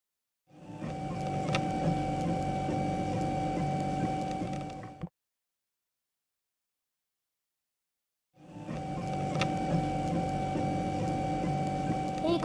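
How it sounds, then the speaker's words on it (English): A 3D printer at work printing a minion figure, its motors giving a steady whirring drone with faint ticks, heard in two long stretches split by a few seconds of silence, with no speech. "So at the minute we are printing."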